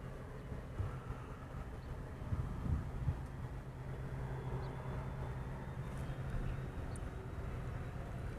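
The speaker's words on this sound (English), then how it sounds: "That is Hawaiian Flight 1025 coming in from Maui" A Hawaiian Airlines Boeing 717 arrives into Honolulu from Maui, its engines a steady low rumbling drone at a moderate distance, holding level throughout with faint background noise and no talk.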